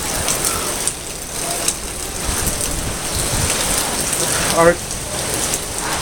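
Hurricane Haiyan (Yolanda) storm in Ormoc: heavy rain pounding surfaces with wind roaring steadily throughout, a brief voice breaking through near the end.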